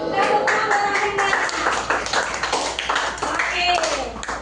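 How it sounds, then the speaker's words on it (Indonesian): A primary school class clapping for a student, a dense burst of children's hand claps mixed with loud overlapping chatter and voices close by. "Tepuk tangan buat Afrina"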